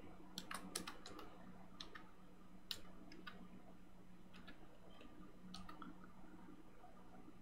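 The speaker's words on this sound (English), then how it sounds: "my keyboard is being funny" Computer keyboard typing, faint scattered clicks and short bursts of keystrokes at close range over a low steady hum, with no talking.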